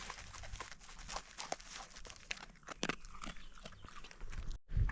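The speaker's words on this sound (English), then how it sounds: "This is a hungry dog. She's chowing down on her dog food." A hungry dog eats dry dog food outdoors on a fishing trip, with quiet, close crunching and chewing bites coming in an irregular rhythm over faint background noise.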